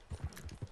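Horse galloping in the video game Red Dead Redemption 2, a quick run of rhythmic hoof thumps, four or five heavy beats in under a second, close and fairly loud with no talk.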